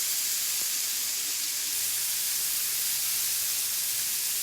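Food sizzles in a hot pan, a steady bright hiss with one faint pop early on and no talking.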